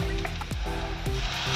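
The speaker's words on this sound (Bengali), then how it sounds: "এবার দিয়ে দেবো আদা রসুন বাটা, আদা রসুন আর কাঁচা লঙ্কা একসঙ্গে বাটা" Ginger, garlic and green chilli paste frying in a hot pan for egg biryani, a loud close sizzle with stirring scrapes and clinks, steady throughout.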